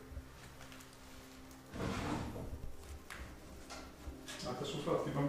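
A stiff old wooden drawer in an abandoned manor is forced inward, giving a scraping, rumbling slide with a couple of clunks over a few seconds, close by, with faint voices underneath.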